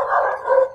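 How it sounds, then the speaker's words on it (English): Dogs barking in the Project Zomboid video game, a single sustained bark-like howl lasting under a second, fairly loud and close with no talk over it. "Those dogs are always fucking barking"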